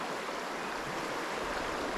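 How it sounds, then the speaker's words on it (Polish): A river, the Bóbr during a fly-fishing trip for trout, rushes in a steady broadband wash of flowing water, constant and fairly close, with no voices. "I nagle lądujecie sobie nad taką rzeką."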